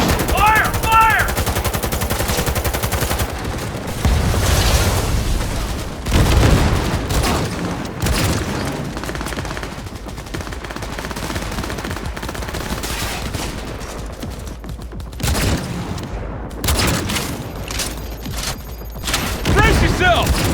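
Dense gunfire erupts in the game Cyberpunk 2077 in long bursts of rapid automatic shots mixed with heavier booms, loud and close for about twenty seconds, with voices shouting over the battle.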